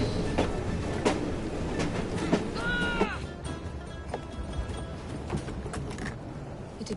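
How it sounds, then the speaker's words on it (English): Train in the video game Assassin's Creed Syndicate rumbles steadily under a busy game soundscape, with a brief metallic screech around the middle and scattered clanks and knocks, moderately loud throughout. "Oh well, at least we have a train now."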